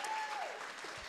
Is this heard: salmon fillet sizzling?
no